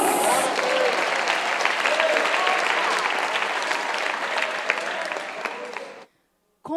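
Church congregation applauding, sustained dense clapping from a large crowd that fades out after about six seconds.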